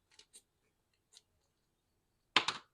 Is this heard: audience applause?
no